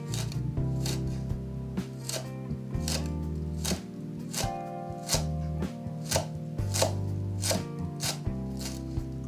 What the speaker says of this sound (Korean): 얘를 먼저 아주 잘게 썰어서